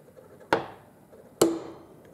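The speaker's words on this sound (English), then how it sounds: "So I'm going to give it a push down, see where it clicks." Two sharp metallic clicks from a torque wrench being pushed down during calibration, spaced about a second apart, close and crisp, each ringing briefly against a quiet background.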